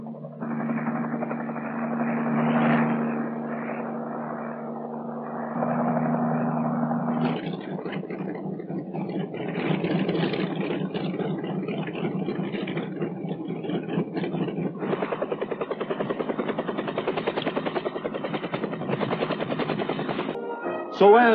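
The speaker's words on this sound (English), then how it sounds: "Then the troop carriers take off, well in advance of the H-21 group following." Piasecki H-21C Shawnee tandem-rotor Army helicopters taking off, a loud, steady engine drone with rhythmic rotor throb that shifts in pitch as the aircraft lift away.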